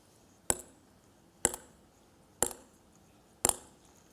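A table tennis ball bounces four times at even, roughly one-second intervals, each a sharp, close, hollow click, with quiet room noise between the hits.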